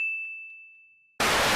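A notification bell ding in a Garry's Mod gaming session, one clear bright chime that rings out and fades, followed abruptly by a short loud burst of noise.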